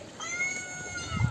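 Recorded cat meows play from a phone, several drawn-out wavering mews in a row at moderate volume, ending with a low thump or voice underneath.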